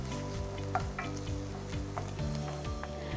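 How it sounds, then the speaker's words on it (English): Onions sizzle and fry steadily in an oiled pan, a continuous close crackle with small pops and occasional stirring scrapes, no voices. "we can get our onions started"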